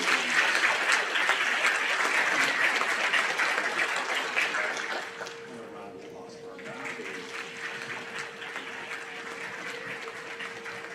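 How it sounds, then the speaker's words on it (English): A room of listeners at an 8th grade junior high awards ceremony claps for the math award winners. The applause is brisk for about five seconds, then dies away, leaving a quieter room with a steady hum and faint murmuring. "How about a round of applause for our math awards?"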